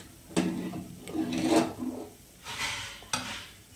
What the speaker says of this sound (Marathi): फक्त काजू आहेत, जे मी तुपात रोस्ट करून घेणार आहे.